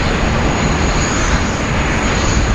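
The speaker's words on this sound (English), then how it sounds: "One of the fan favourites there, the Qantas Freight 767-300" A Qantas Freight Boeing 767-300 cargo jet roars loudly and continuously at Sydney Airport, a dense, broad engine rumble with a faint high whine, heard up close with no voices.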